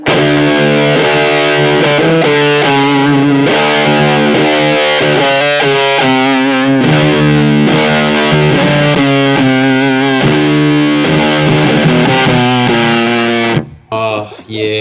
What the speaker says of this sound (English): listen to that same riff on blue just so we can hear the difference there